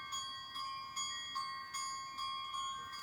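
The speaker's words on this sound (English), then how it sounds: "That bell is ringing." A bell rings in a steady repeating pattern, about seven evenly spaced strikes each ringing out briefly before the next, clear and moderately quiet with no talk.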